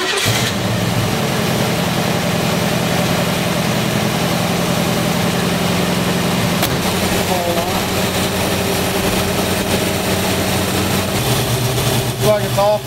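A classic car engine converted to electronic ignition cranks and catches, then settles into a steady, rumbling idle nearby, with a brief rev near the end.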